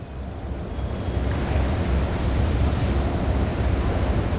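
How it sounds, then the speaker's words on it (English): Strong wind and heavy waves at sea in the ship simulator game Seafarer make a loud, unbroken roar of gusting air and breaking surf that swells slightly and never lets up. "Yeah, the wind is really picking up out there."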